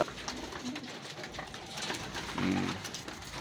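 Racing pigeons coo softly amid a steady outdoor hiss at a training release in Lupao, Nueva Ecija, with one low, fuller coo rising briefly near the end.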